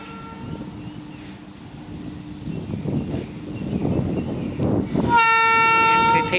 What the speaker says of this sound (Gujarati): એન્ટ્રી થઈ રહી છે, હોર્ન મારે છે.